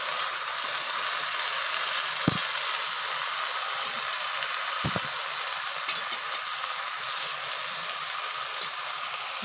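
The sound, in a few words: food frying in a pan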